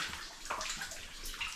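Water dripping and trickling through rock inside an underground mine, a steady wet patter of drops and splashes that is close and fairly loud, with no voices.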